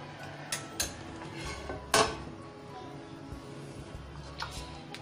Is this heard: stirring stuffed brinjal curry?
yes